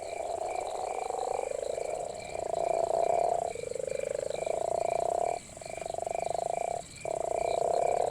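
Male leopard toads gathered at suburban Cape Town ponds give deep, low, sustained calls in a steady series of long pulses separated by brief gaps, with a faint high insect-like hum running behind them.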